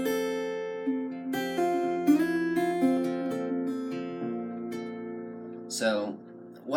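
Acoustic guitar playing a passage of a song, with sustained notes shifting pitch through slides and pull-offs, plucked one after another at close range, ending in a brief scrape of string noise; no talking.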